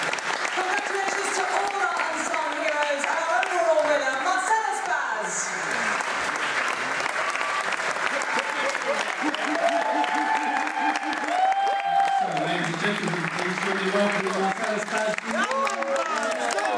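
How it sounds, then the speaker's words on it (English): Applause and crowd noise fill an event hall at a boxing school's awards gathering, sustained clapping and cheering mixed with overlapping voices and music. "Let's give them a big round of applause."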